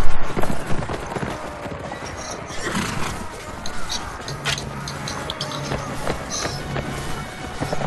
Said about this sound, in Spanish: Vaya, era un caballo